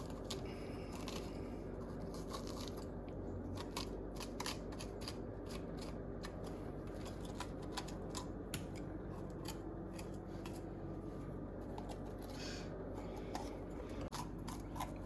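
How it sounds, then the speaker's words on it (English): Bell peppers being cut and hollowed out by hand in a home kitchen, with repeated crisp snips and rustling scrapes in an irregular rhythm, close and fairly quiet. "I cut the peppers and I take out the inside"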